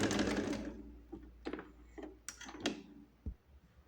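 A sewing machine stitches a pocket onto a pair of pants, with a short close burst of running at the start, then scattered clicks and handling noises.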